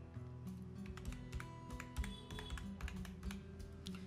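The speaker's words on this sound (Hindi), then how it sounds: "इस कोड को हम टाइप करते हैं।" Rapid, steady keystrokes on a computer keyboard as a verification code is typed in while setting up an online seller account, close and clear with no voices.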